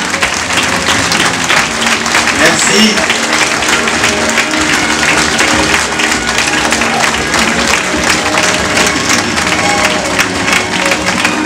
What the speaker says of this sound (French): Ne faiblissez pas nos applaudissements, ils le méritent tous.